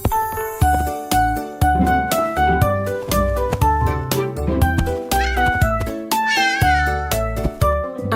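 A cartoon cat meows twice with rising, wavering calls over bouncy children's song music with bass and chiming notes, the meows loud and prominent near the end.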